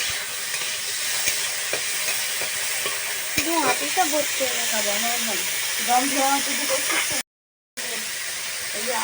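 Food frying in hot oil in a kadai, a steady bright sizzle and hiss running throughout, with a voice talking over it in the middle.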